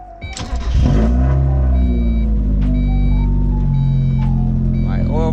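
A 1.6L Mazda Miata engine cranks briefly after an oil cooler install, catches, and settles into a steady running idle nearby, with chime-like warning beeps repeating over the engine noise.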